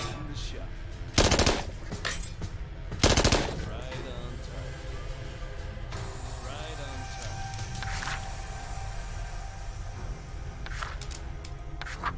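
Submachine gun strafing fire in the tactics video game Achtung! Cthulhu Tactics, heard as two loud, short bursts about two seconds apart over a steady game soundscape.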